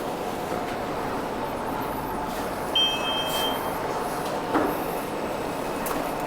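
Station ambience inside a Guangzhou metro: a steady, even background roar of the underground space with a couple of brief electronic beeps partway through, no talking.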